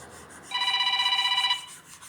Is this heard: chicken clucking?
no